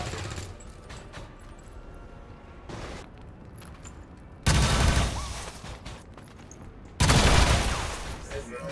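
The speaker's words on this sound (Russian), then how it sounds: "У Мека не остается ни единого шанса против двух выстрелов" Bursts of gunfire in XCOM 2: War of the Chosen, two loud blasts standing out over a rumbling background of smaller shots and noise.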